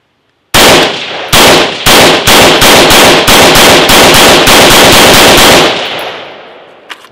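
Firearm firing about 15 rounds fed from an M3 PMAG magazine during a torture test: very loud, close shots in a steady semi-automatic rhythm, slightly irregular at first, followed by a lingering echo and a faint clink.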